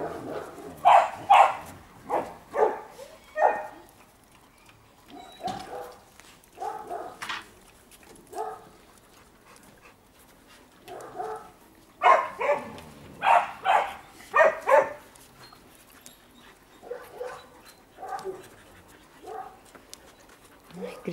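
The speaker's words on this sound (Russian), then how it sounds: "Грязнущие собачки." Several dogs at a kennel bark, whimper and pant in repeated bursts, fairly close and loud, separated by short pauses, with a person talking briefly at times.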